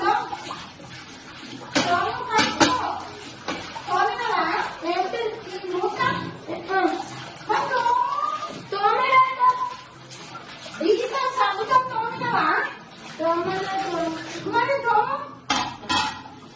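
Dishes and pots are scrubbed and washed with soap and water at home, with clattering and splashing running continuously beneath nearly constant talking from an adult and a child.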